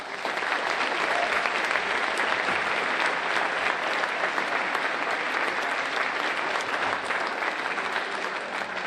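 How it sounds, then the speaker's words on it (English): A high school audience gives a sustained round of applause for computer science teachers, dense and even clapping from a large crowd that holds steady at full strength throughout. "would you give your teachers here that teach computer science a round of applause?"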